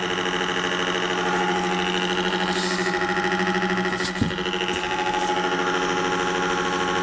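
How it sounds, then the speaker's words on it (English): An exhaust fan runs steadily inside a box cooled by a solar-powered Peltier plate refrigerator, giving a constant close-up mechanical hum with a faint buzzing rattle and one brief click. "Now exhaust fan is on."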